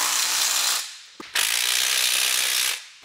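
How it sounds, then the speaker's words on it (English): A hand ratchet clicks rapidly while tightening a bolt on the shifter of a Toyota Crown with a 2JZ engine swap, two bursts of close, bright ratcheting split by a short pause and a quick metallic tap. "just putting two bolts in."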